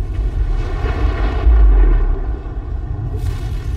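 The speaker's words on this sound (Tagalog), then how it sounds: "Tingnan nyo sa ibabaw ng lupa kung ano po ang epekto nung pumutok itong nuclear." A nuclear bomb explosion booms with a deep, loud low rumble that swells to a heavy roar midway, then trails off into a fading roar.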